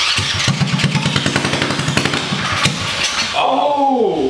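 A Predator 212 small engine running backwards chugs loudly and unevenly with rapid firing pulses, then cuts out and winds down while people talk over it.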